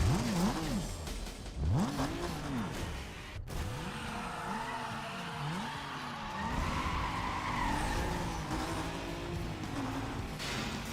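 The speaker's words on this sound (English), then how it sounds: "I do like that engine sound though." V8 Mercedes-AMG engine in the racing game Need for Speed Most Wanted, revs rising and falling repeatedly as the car shifts and skids, with tire squeal and steady mechanical roar throughout, loud and close.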